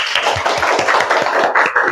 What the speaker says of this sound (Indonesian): Beri tepuk tangan untuk kelas 10